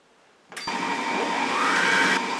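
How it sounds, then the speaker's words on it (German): A Monsieur Cuisine Plus food processor set to speed 5 starts up and mixes pumpkin pancake batter, a sudden steady motor whir with a faint rising whine, close and alone. "Wird jetzt dann 1 Minute Stufe 5 zu einem Teig vermengt."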